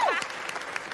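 A television singing-show audience applauds, a brief dense burst of clapping and crowd noise after a sweeping tone, with voices mixed in.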